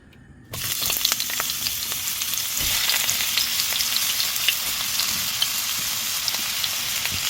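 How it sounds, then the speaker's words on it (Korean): Radish dropped into hot oil in a frying pan and stir-fried, bursting into a loud, steady sizzle that continues with occasional scraping and stirring clatter. "프라이팬에 기름을 두르고 제가 먼저 무를 넣고 볶겠어요"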